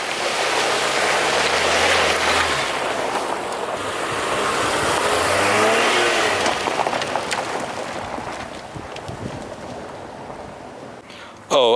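Wind-buffeted exterior drive-by of a 2025 Honda Pilot TrailSport SUV, a broad rushing roar of wind and tyre noise swelling and fading, with a voice speaking faintly at moments.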